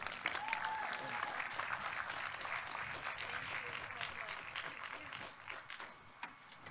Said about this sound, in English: So let's give another round of applause to Maria.